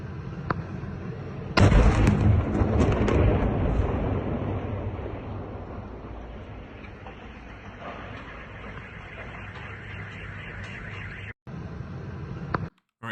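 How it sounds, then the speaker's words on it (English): A huge explosion from a drone strike on a military base erupts with a loud sudden blast, followed by a long rumbling roar that slowly fades into sustained low noise with scattered crackles. "as we can see, a huge explosion"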